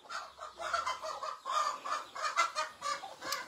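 Rhode Island Red chickens on a farm cluck in a steady rhythmic series of close, moderately loud calls with no talking.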